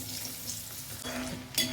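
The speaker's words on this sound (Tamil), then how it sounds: "வாழைத்தண்டு பொரிக்கிறதுக்கு வண்ணலில் எண்ணெய் வச்சுருக்கிறேன். இப்போ கொஞ்சம் கொஞ்சமாக போட்டு இதை பொரிச்சு எடுக்கலாம்." Banana stem pieces deep-frying in hot oil in a pan, a steady close sizzle and crackle that swells when more pieces go in and flares briefly near the end.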